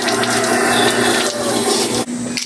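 Water gushing and spraying from a deepwell water pump, a loud continuous hissing rush that holds steady for about two seconds before briefly cutting out and resuming.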